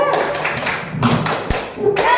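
Primary-school teachers perform the rhythmic 'tepuk semangat' clapping routine in a classroom, a few sharp claps and taps mixed with a thump, while voices speak along.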